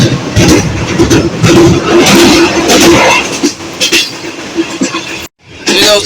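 Train running on a railway line near Chakrala station in rainy weather near Rawalpindi: a loud, continuous rumble and rattle of the cars on the track, with a brief sharp dropout near the end and voices partly under it.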